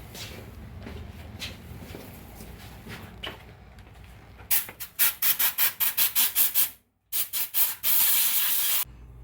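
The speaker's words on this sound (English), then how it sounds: "going to take a little bit of compressed air and blow the metal shavings off of there" Compressed air blows metal shavings off a Grom clone engine after drilling for a bolt upgrade: a series of about a dozen sharp, loud hissing bursts, then one longer blast, following quieter rubbing sounds.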